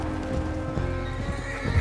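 A horse whinnies loudly while hooves clip-clop underneath, close by and steady throughout, in the video game Red Dead Redemption 2.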